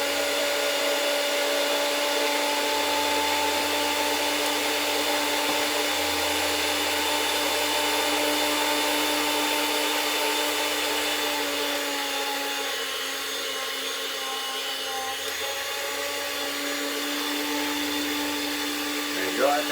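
A motorized kitchen meat slicer set to thickness 5 cuts steak with a steady, continuous electric whir and faint grinding hum that holds for the whole stretch, dipping slightly partway through before resuming.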